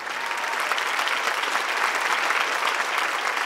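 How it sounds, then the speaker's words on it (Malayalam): Studio audience on a Malayalam TV singing show applauding steadily, a dense continuous clapping that holds at full loudness for the whole stretch with no voices on top. "ഒരു ദിവസത്തിൽ പഠിച്ച ഈ മോന് ഇത്ര കയ്യടി പോരാ"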